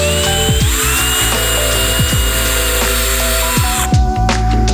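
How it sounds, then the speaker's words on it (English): A power drill spins the back of a valve stem used as an eraser wheel against a car part. There is a loud, steady high whine with repeated grinding scrapes and pitch dips as it bites, then it winds down. "you could use the back of a valve stem as an eraser wheel"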